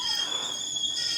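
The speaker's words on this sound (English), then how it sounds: "My tea is literally screaming in my kitchen." A teapot on a kitchen stove whistles steadily, a high shrill tone that wavers slightly in pitch, continuous and fairly loud with no talk over it.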